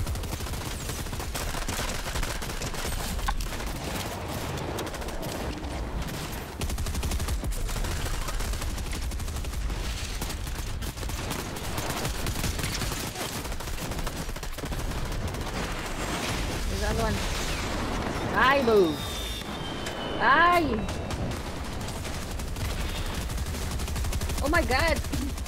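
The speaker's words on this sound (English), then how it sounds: "I assume we're going to investigate the gunshots" Gunfire from a Fortnite match crackles in bursts through the game's ambience while a player talks over it, with a couple of louder volleys near the end.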